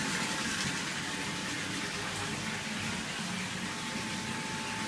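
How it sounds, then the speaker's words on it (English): A water pump in an aquaponics deep water culture bed, beside tilapia fish tanks and a sump tank, keeps up a steady, close rushing flow of water, a constant broadband gush with a faint hum and no talking. "This is the pump, especially in the deep water culture bed."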